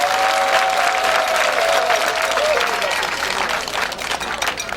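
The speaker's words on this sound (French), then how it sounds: "j'aimerais que vous applaudissiez très fort nos femmes." An audience at a women's association's official launch event applauds in a loud, dense clapping that holds steady throughout and thins slightly near the end, with a voice briefly audible over it.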